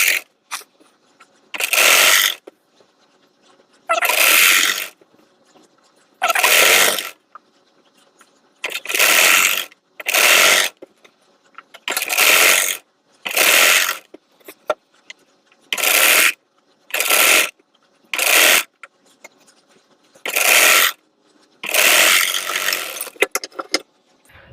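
A sewing machine stitches blouse fabric while attaching sleeves, running in about a dozen short bursts of rapid mechanical whirring separated by near-silent pauses, with no talking.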